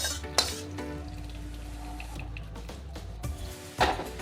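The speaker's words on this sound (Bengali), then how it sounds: "আলু সেদ্ধটা" Boiled potato being mashed by hand with freshly fried spices in a kitchen, heard as soft squishing and scraping with a few sharp clinks of utensils against a vessel, moderately close and steady throughout.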